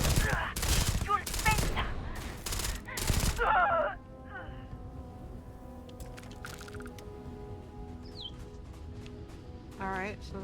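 Several sharp, loud gunshots in Starfield ring out in quick succession early on, followed by quieter game ambience with scattered faint effects.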